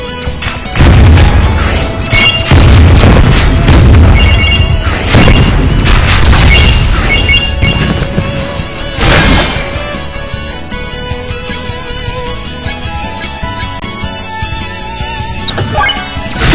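A frozen rocket exploding and shattering in the Win Wing video game: loud repeated booms and crashes for several seconds, then a sharp burst and glassy, fading debris over a dense game soundtrack.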